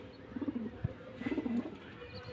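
Pigeons at a home loft coo in two low, rolling bursts separated by a short pause, fairly close and clear over a quiet background with no talking.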